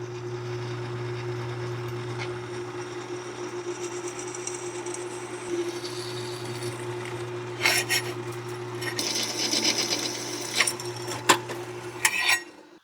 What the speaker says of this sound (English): Let's drill these 2 holes real quick like.